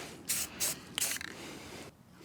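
Three short hissing bursts from a spray can as light coats go onto a car's brake booster, the last burst slightly longer and sputtering, fairly close.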